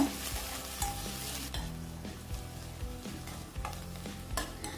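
Sliced onions and green chillies fry in oil while a spoon stirs them around the pan, a steady sizzle with scraping, mostly beneath louder background music.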